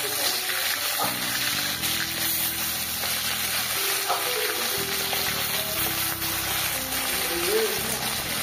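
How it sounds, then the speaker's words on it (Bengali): Bata fish sizzle in a pan as they are stirred, giving a constant hiss of frying oil under voices that talk over much of it. "এবার একটু নেড়ে দেব মাছগুলো।"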